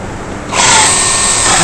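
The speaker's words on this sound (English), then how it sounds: "we're going to drill a couple of holes in the back there" Power drill boring holes through metal quad spouting at an angle joint: after a brief quiet start, a loud, steady high-pitched whine kicks in and holds continuously, close up.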